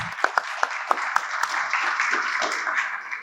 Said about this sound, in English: A big round of applause for our international trade advocates.